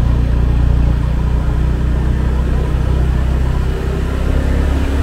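Motorbike riding slowly through the Uluwatu area of Bali, with a steady low engine rumble and road noise that stays loud and continuous throughout, no talking.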